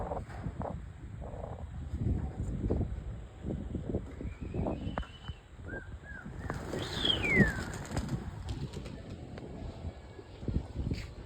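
Pigeons in a loft coo and flutter with a few short, high calls among them. The birds are close, over steady wind-like background noise.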